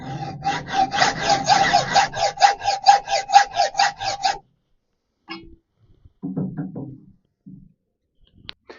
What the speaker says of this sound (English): I'm just going to cut that off with a hacksaw.